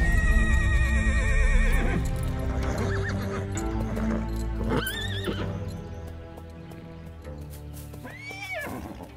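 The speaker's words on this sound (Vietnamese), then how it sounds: "Chắc ngựa các ngươi nghe tiếng hắc mã bọn ta nên sợ, không dám ra khỏi chuồng rồi." Horses in a Vietnamese comedy film scene neighing loudly, with two high, wavering whinnies in the middle and near the end, over steady clip-clopping hooves and a busy, full background.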